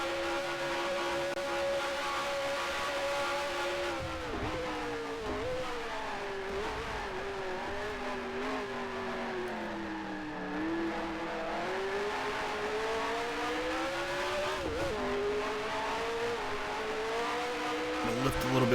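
A race car engine in the Grand Prix Legends racing game drones steadily and loud throughout, its pitch rising and dipping with throttle and gear changes as the car laps an oval, with a voice talking over it.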